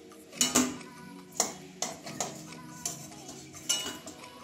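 Spatula or utensil clinking against a pan while lifting oil-free fried brinjal (eggplant) slices out, several distinct metallic clinks and scrapes at irregular intervals, close and moderately loud.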